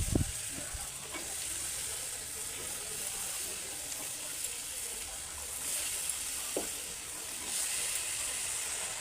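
A hot pan sizzles with a steady hiss while sago is stirred, with a few soft scraping knocks near the start and later.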